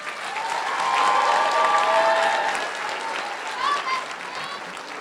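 An audience at an 8th grade promotion ceremony applauds a group of graduates, a loud, dense wash of clapping from a large crowd that swells, holds and then eases slightly, with faint voices mixed in.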